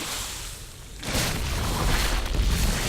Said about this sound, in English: Wow, look at that tech explode.